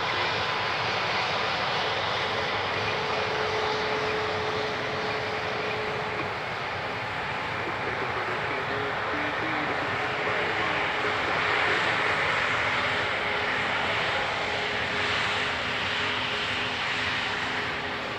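Porter flight 402 departs for Toronto, its engines holding a steady, broad roar with a faint tonal hum throughout, fairly close and unbroken, with no voices.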